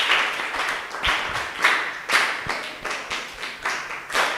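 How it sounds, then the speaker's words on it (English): Students and teachers at a school gathering clap in slow unison, about nine sharp, evenly spaced claps in a steady rhythm, close and clear with no talking. "So can we clap our parents who are viewing us there?"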